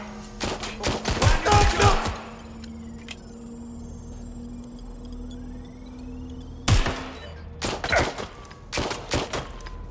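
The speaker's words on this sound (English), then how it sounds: "Taking fire." Bursts of gunfire in the Watch Dogs Legion video game, with rapid volleys of loud shots in two clusters separated by a stretch of steady background hum.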